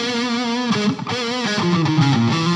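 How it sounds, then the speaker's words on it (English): A distorted electric guitar with a metal tone plays sustained chords and a few bending notes, washed in reverb that lets each note ring and smear together. "Now, the next effect is a reverb."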